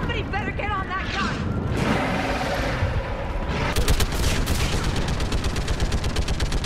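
Rapid sustained fire from a mounted gun in Mass Effect 3, a steady stream of loud shots dominating the second half, preceded by shouted voices and battle noise.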